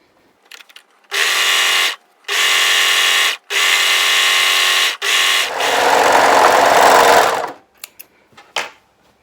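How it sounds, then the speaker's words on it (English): An overlocker runs in several short, loud bursts and then one longer steady whir as it sews around the bottom edge of a dress tier, with brief pauses and small clicks between runs. "I'm going to overlock around the bottom edge in preparation for sewing on my"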